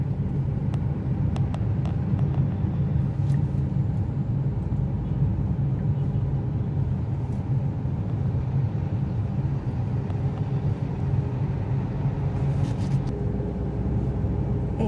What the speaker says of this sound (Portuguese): isso aqui é o trânsito de São Paulo